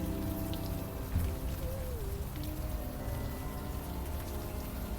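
Steady rain ambience from the adventure game Unavowed, a dense, even patter of drops that holds at a constant level throughout, with a faint tonal game sound drifting through the middle.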